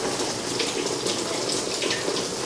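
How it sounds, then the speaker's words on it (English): Water pours and splashes steadily through the collapsed roof of a nail spa, a constant rushing gush that continues without a break. "The water's still coming down, right?"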